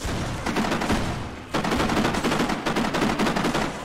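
A gun in the video game Kane & Lynch fires in rapid automatic bursts, loud and close, with a brief pause between two sustained volleys.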